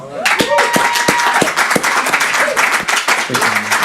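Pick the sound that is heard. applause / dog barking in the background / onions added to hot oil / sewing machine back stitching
applause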